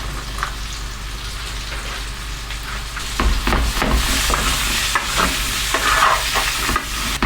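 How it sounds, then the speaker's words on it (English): Potatoes and onions for a cauliflower and kale hash fry in a tray with a constant crackling sizzle, while a utensil repeatedly pushes them around, making close, busy scraping and tapping sounds. "Just going to keep cooking them in this tray, moving them around."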